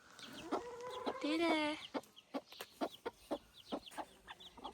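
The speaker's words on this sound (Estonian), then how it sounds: "Tibud! Näe, tibud!" Chicks and chickens clucking and cheeping, with a run of rising chirps and repeated short clucks close by, while a person speaks briefly at the start.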